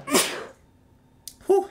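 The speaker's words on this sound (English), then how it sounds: "I gotta sneeze." One person sneezes close by, a sharp breathy burst, followed after a pause by another short vocal exhale.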